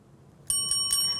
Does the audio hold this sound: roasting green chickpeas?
no